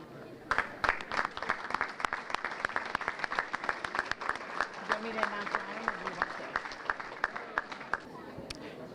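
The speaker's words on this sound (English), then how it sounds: "If we could get one more round of applause for all of our award recipients." Audience applause for award recipients at a high school academic banquet: dense clapping with sharp individual claps, steady for about eight seconds, then thinning out, a voice faintly audible underneath.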